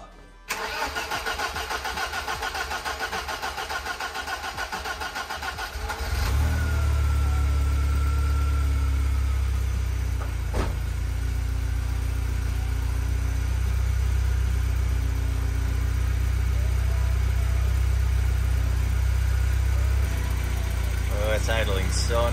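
A BMW E21 320i with a swapped M42 engine cranks and catches on its first start, then settles into a steady, rumbling idle that continues for a long stretch.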